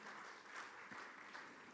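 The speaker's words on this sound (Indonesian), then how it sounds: "Mari yang setuju beri tepuk tangan yang meriah bagi Tuhan kita." A church congregation applauds during a worship service, a dense steady wash of clapping that is faint and distant, lasting under two seconds.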